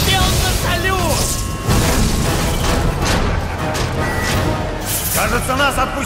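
Booming explosions and crashes from the Marvel's Spider-Man video game fill a dense, loud stretch of game audio, with voices speaking over the rumbling blasts.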